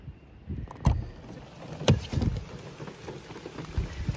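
Rain patters on a van in irregular, scattered taps and soft thumps, fairly close, with no voices, at Lake Girardeau, Missouri.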